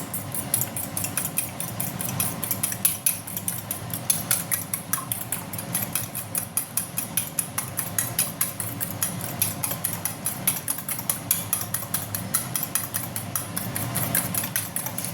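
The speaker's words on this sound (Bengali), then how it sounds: "একটু নুন দিয়ে ডিম দুটোকে ফাটিয়ে নিলাম।" Two eggs whisked with a pinch of salt in a bowl for chowmein, giving a steady, rapid run of close, crisp fork-against-bowl ticks that repeats without pause throughout.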